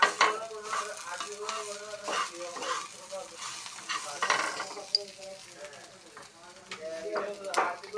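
Crab and jackfruit seed dish being stirred and mixed in a frying pan, rhythmic scraping strokes over a light sizzle, close by, with a person talking over it at intervals.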